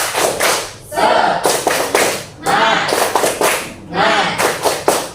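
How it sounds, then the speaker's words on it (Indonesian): A school class performs the rhythmic 'tepuk semangat' clapping chant together, loud bursts of group claps and thumps in repeated phrases with short pauses between them, chanted voices riding along with the beat. "Yuk bareng-bareng yuk, tepuk semangat"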